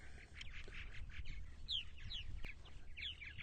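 Purple martins on Eastern Long Island, New York, calling from a few feet away, with several short rising chirps and chatter over a low outdoor rumble.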